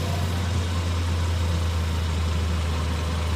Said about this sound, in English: There is a slight rattle that you'll kind of hear every so often, and I believe it's from somewhere in the middle of the exhaust here.